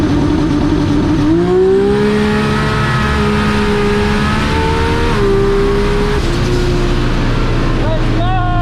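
A Baltic drag race car revs hard at the line and launches, its high-RPM engine note rising and shifting pitch loudly and up close, with crowd noise around it.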